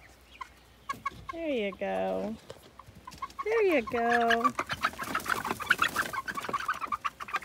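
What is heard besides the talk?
flock of chickens clucking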